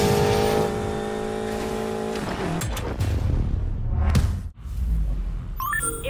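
Racing cars in NFS Payback roar through an offroad race, with a loud sustained engine drone, gear shifts and rising revs, a brief dip, then tire noise and gritty rumble over game effects.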